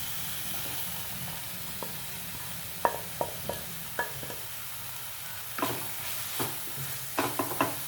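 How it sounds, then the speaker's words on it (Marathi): Dry spice masala sautéed in oil for an egg fry, a faint low sizzle broken by scattered spatula taps and scrapes against the pan that grow busier toward the end. "आता आपण जे सुके मसाले ठेवले होते ते यामध्ये घालून घेऊया"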